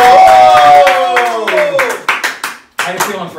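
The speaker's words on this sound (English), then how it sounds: "Round of applause for Freddy and Devlin." An audience claps and applauds after a stage magic trick with blades, a burst of hand claps that grows choppier and thins out, with voices talking over it.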